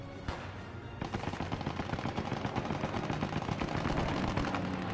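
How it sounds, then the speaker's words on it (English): A friendly air strafing run rakes the ground with sustained rapid machine-gun fire in Squad 44, a dense, continuous roar of rounds that holds steady and loud throughout. "Friendly air strafe run coming in."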